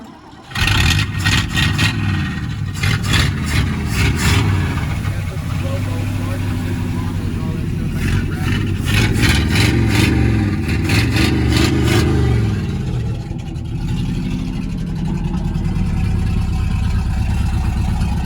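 A classic car engine cranks, catches and revs in loud repeated bursts, a steady low rumble running throughout, while people talk nearby.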